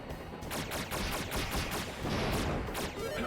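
Dense bursts of gunfire and blasts from an Iron Man and X-O Manowar in Heavy Metal Sega Saturn game, rapid overlapping shots with booming impacts, loud and continuous for several seconds.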